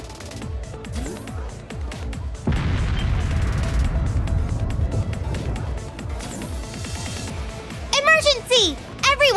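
Rhineford railway cannons in the video game Trails of Cold Steel III firing artillery, a deep, rumbling boom that swells and rolls on for several seconds, with people talking over and around it throughout.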